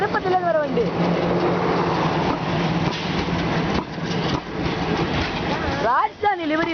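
An Erode-based WDM2 diesel locomotive in Rajdhani livery departs Srirangam hauling the Tirupati–Nagercoil Express, with a steady throbbing diesel rumble underneath and people talking over it nearby.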